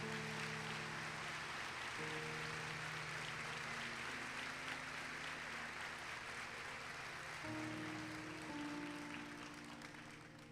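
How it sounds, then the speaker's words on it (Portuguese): A church audience applauds a woman during a service, a broad steady wash of clapping that swells and slowly fades, with sustained musical tones playing underneath. "uma salva de palmas para essa mulher"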